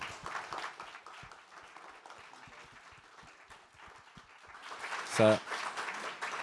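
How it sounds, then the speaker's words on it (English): An audience at a music-industry panel discussion applauds the panel, the clapping faint beneath a speaking voice at first, then swelling into a fuller burst of applause near the end. "If everyone give a quick round of applause for the panel."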